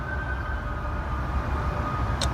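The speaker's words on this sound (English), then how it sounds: "Now, that's a fire truck, actually. Fire truck." Fire truck siren heard on a morning hike near traffic, a steady wailing tone at moderate distance sustained over rumbling road noise and wind.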